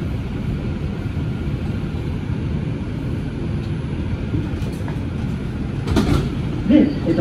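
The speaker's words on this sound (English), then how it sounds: "Bronxbound 2 Express train." A 2001 Bombardier R142 New York subway train on the 2 Express line rumbles along the tracks in the Bronx with a steady low roar and rattle, with a brief squeal near the end.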